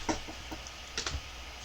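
A few faint, soft clicks of computer keys being pressed, ending in an Enter keystroke while working in a Linux terminal, heard alone in a quiet room.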